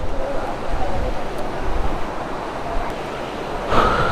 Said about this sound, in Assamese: পাহাৰীয়া এৰিয়াৰ নদীটো পুৰা সোঁত বৈ আছে